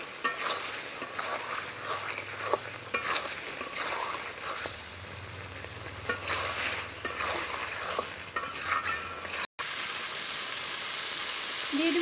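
Chunks of ash gourd sauté lightly in a pan for a thin rui fish curry, giving a constant close sizzle with repeated spatula scrapes and taps against the pan, broken by a very short silent gap near the end.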